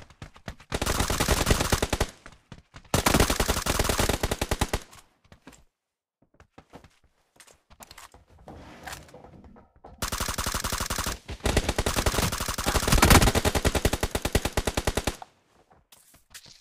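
Bursts of rapid automatic gunfire, several long volleys separated by short pauses, loud and close with sharp repeated cracks.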